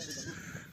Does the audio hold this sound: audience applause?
no